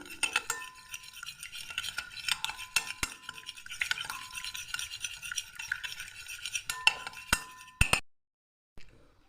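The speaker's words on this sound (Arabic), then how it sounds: "نبتدي نقلب كده شويه، انا عايزه اقلب الزبادي." A spoon stirs a chicken marinade of yogurt, lemon juice and molasses in a bowl, giving steady scraping and clinking strokes for about eight seconds before it stops abruptly. No one talks.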